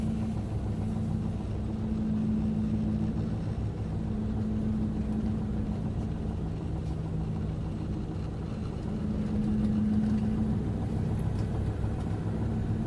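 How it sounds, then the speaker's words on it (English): A 1997 Toyota LiteAce van's engine idles with a steady, low, even hum that runs without break throughout, with no talk over it. "Engine drives smooth."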